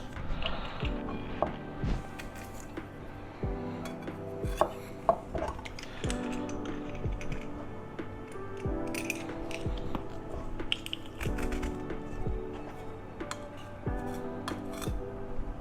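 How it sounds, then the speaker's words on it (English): Peeled garlic cloves being grated by hand, a long run of quick, rhythmic scraping and rasping strokes with small metallic knocks and clatters, moderately faint and near, with no talking. "Quickly grate this garlic up."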